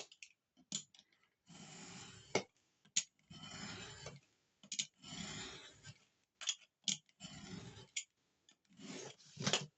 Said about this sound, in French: on se met à la pointe ici pour découper l'autre partie